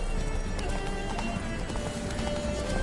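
Roach, Geralt's horse in The Witcher 3, gallops in steady rhythmic hoofbeats under a dense wash of game music and ambience, with a brief whinny, loud and continuous.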